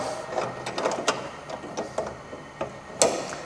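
A heavy-duty steel part on a GTS1200 ride-on sweeper is latched into place with a run of close metallic clicks and taps, ending in a sharper, louder clack.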